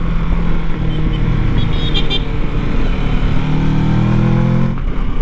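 Engine of a Kawasaki Versys 650 motorcycle on twisty roads, a continuous loud drone that rises in pitch as it accelerates through the middle, with a short high tone near the second mark and wind rumble throughout.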